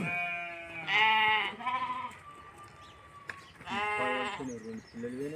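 Sheep bleating close by, with several loud wavering bleats that come in bursts separated by short quieter gaps.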